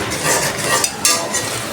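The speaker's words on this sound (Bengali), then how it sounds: "এখন আমি মশলা সুন্দর করে কষিয়ে নেব।" Spices with onion and green chillies sizzle steadily as they are stir-fried in a pan, with soft scraping and occasional light clinks of the spoon. The sizzle is close and continuous, with no voices.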